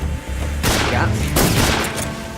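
Gunfire in Metal Gear Solid 3: Snake Eater, a couple of loud bursts of shots with booming tails over a murky low game background, with a voice heard briefly.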